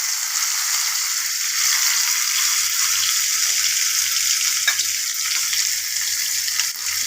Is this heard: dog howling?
no